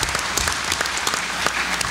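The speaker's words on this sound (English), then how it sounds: "let's give them a round of applause" An audience at a water summit gives a short round of applause, dense overlapping claps close and fairly loud throughout.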